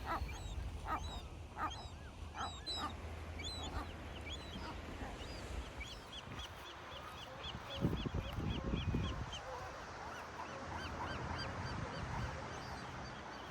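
Seagulls call repeatedly at a busy nesting colony on Anacapa Island, a dense overlapping chorus of squawks and cries close and far, with a few louder bursts midway.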